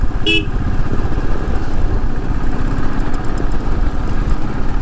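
A Royal Enfield Thunderbird 500 motorcycle engine keeps up a loud, steady thump while being ridden, with a brief horn toot near the start and constant road and wind noise underneath.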